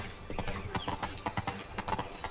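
Horse hooves clip-clop in The Witcher 3: Blood and Wine, a steady uneven trot of fairly close, crisp knocks over faint ambient game sound.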